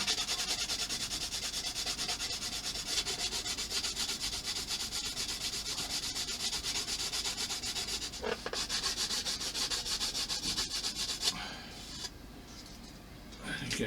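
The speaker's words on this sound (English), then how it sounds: "Sandpaper, sander." Sandpaper rubbing steadily against a part for a USS Enterprise CV-6 model ship, with a continuous close scratchy abrasive sound through most of the clip and a short pause near the end.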